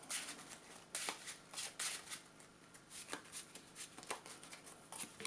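Yu-Gi-Oh cards being shuffled by hand in a repeated riffle-and-slide rhythm, crisp papery flicks up close and fairly quiet, with no talking.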